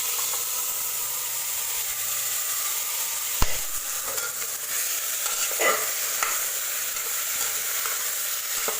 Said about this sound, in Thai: แล้วก็คั่วผักที่เราหมักไว้นะคะ ผัดไปค่ะ